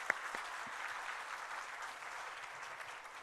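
A church congregation applauds in steady, sustained clapping that sounds fairly distant and soft, with no talk over it.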